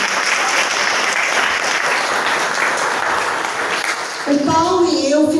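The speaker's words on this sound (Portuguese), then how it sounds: "Aplauda esse casamento que vocês vão aqui." A congregation at a prayer group gathering bursts into sustained applause for a wedding, dense and loud throughout, giving way near the end to a voice over the dying claps.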